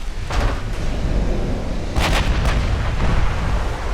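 Naval gunfire and shell hits on warships in the video game Ultimate Admiral Dreadnoughts, with several heavy booming impacts and crackling bursts over a constant rumbling battle din, loudest around the middle.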